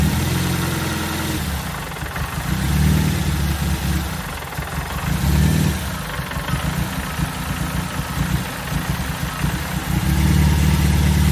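A 2000 Nissan Sentra engine with an EGR bypass idles roughly, a close, steady low rumble that pulses and swells unevenly every couple of seconds, with no voices.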